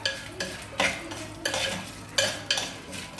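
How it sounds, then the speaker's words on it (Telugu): Dried red chillies fry in a hot tempering of cumin, black gram, chana dal and mustard seeds for a cucumber dappalam, with a steady low sizzle and a run of sharp spoon-scrapes and stirring clinks against the pan. "ఇప్పుడు ఎండుమిర్చి కూడా వేసేసుకుందాం"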